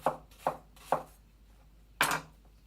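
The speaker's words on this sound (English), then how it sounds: "I just turn the onion this way, and then I'll cut it that way" A knife cuts an onion into long straight strips on a board, four crisp chops landing close and clear, three in quick even rhythm, then a pause before a final louder cut.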